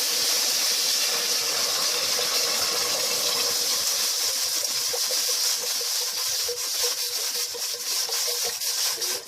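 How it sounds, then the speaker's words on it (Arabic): Water pours steadily into a cooking pot on the stove while making orange marmalade, a continuous close rushing hiss with no talk over it. "دلوقتي هنا حطينا الميه اهو"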